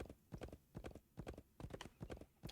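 A horse's hooves clip-clop in a steady walking rhythm in the video game Wild West Dynasty, soft and fairly distant, repeating evenly throughout.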